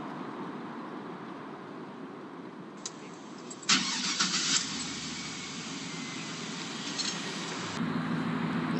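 A gas truck engine in a video game cranks and catches, roaring briefly before settling into a steady idle, then its tone drops lower near the end.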